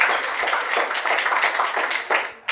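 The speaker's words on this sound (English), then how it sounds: "So big round of applause for the panel that we've got up here." Audience applause for a branding panel, brisk and fairly close. Dense clapping comes in uneven surges and thins into a few separate claps near the end.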